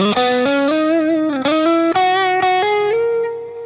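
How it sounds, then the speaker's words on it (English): Clean, rounded electric guitar notes from an HSS guitar's neck-middle pickup position picked one after another in a short, smooth melodic line, the last note fading out. "if I go over here to these 2 pickups, the 4th position, it's going to get really clean and round sounding"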